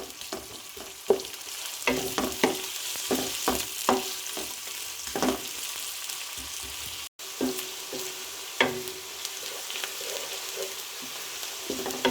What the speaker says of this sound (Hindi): प्याज मैंने 2 अदद दरमियाने साइज़ के लेकर उनको इस तरह से बारीक स्लाइस कर लिया था। अब हम इन्हें लाइट ब्राउन कर लेंगे।